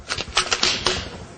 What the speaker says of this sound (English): To put the magazine in, all you do is cock it back